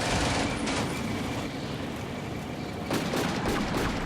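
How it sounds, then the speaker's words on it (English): An artillery strike in the game Combat Mission: Afrika Korps: a loud, continuous roar of blasts and rumble, with sharper bursts near the start and a cluster of cracks toward the end, with no voices. "This artillery strike is forcing this guy to also take cover"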